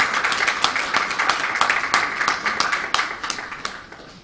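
An audience applauds at a programme launch event in Belize: steady, fairly close clapping from many hands, sustained evenly for several seconds with no voices.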